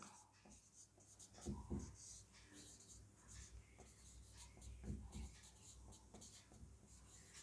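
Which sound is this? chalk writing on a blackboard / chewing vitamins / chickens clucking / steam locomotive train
chalk writing on a blackboard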